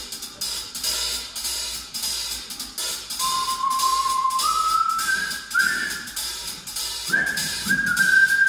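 A person whistles a lilting tune with sliding, rising notes, clear and fairly close over a steady, soft background hum, with no talking.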